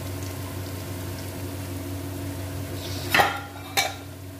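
Ginger, onion and garlic roasting in a pan for a cabbage and pea sabzi: a steady low kitchen hum, then two sharp clinks of a utensil against the pan near the end, with no one talking.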